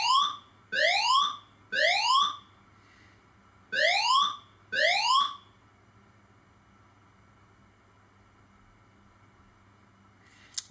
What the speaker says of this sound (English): This is a fire alarm test.